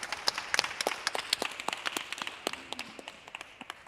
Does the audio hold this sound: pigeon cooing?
no